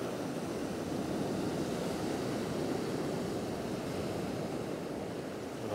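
Sea swell surges and breaks in a steady, broad wash of surf with some wind noise, continuous and moderately distant, no voices.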